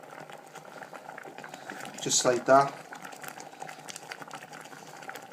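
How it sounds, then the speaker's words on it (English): Water boils in a pot on the stove while cream of rice is being made, a steady soft bubbling hiss with a short louder burst partway through, heard beneath a person speaking. "when it's going like this and boiling"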